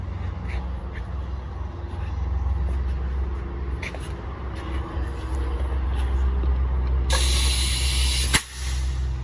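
A rebuilt RTI 9:1 air motor runs on compressed air with a steady hiss and low mechanical drone, then a sharp burst of high hissing air near the end with a brief hiccup.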